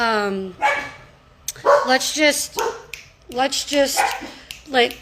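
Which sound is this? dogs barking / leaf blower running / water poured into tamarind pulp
dogs barking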